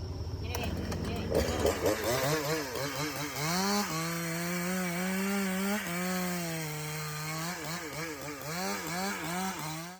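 A chainsaw bites into old, dense timber during heavy logging, its engine loud and near, bogging and revving through the cut with rising and falling pitch and brief rougher rasping at the start.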